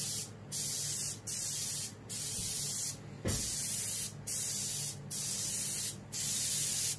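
Airbrush spraying yellow ochre paint onto a muskie fish mount for taxidermy, close steady hissing bursts of about a second each, separated by brief regular pauses.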